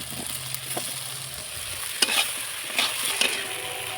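Potatoes sizzle as they are stir-fried in spice paste, giving a steady close frying hiss with a few louder scraping stirs and crackles; no voices.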